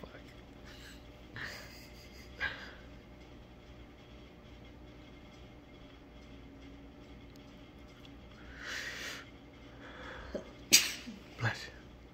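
A person sneezes indoors, a sharp burst followed soon after by a second louder one, faint against a low steady background hum, with quiet voices nearby.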